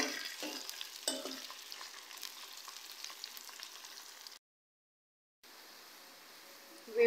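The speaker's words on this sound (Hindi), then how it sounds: "प्याज को हम लोग गोल्डन कलर आने तक फ्राई करेंगे।" Onions frying in a pan for a home-style moong dal tadka, a steady soft sizzle with occasional stirring scrapes, close and moderate, briefly cutting to silence before the frying resumes.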